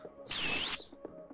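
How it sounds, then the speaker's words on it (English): Single loud, sharp blast of a dog-training stop whistle used with a spaniel, a pure high steady tone lasting about half a second, close and alone against near silence. "I'm going to do a stop whistle first."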